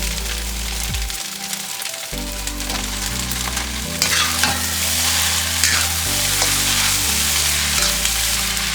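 Pork fried rice made from leftover ribs is stir-fried with meat and vegetables in a loud, crackling sizzle with stirring scrapes. Music with a steady low melody plays underneath throughout.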